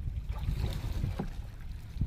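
A small wooden boat is steered on the water, giving a steady low rumble with wind buffeting the microphone and faint splashing.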